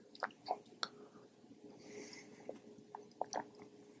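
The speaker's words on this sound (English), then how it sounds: "always chew your shake" A mouthful of thick kale protein smoothie is chewed close and quietly, giving soft wet clicks and squelches in an irregular rhythm with no talking.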